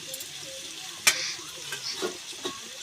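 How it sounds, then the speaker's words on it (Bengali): Mutton fat curry stirred in a pan, giving a soft sizzle under scattered scrapes and one sharp spoon knock near the start, close and quiet, with no talking. "দিয়ে ভালো করে একটু নেড়ে চড়ে নেওয়া হবে"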